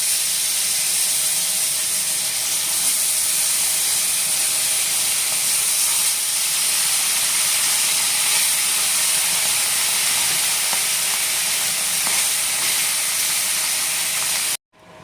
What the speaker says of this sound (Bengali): এখন আমরা দ্বিতীয় ব্যাচের মাছগুলো দিয়ে নেব।